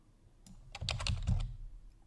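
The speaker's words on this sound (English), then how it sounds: "Good enough if I actually finished typing." A short burst of typing on a computer keyboard, a close cluster of rapid clicking keystrokes that starts, builds over about a second and then stops, with no speech.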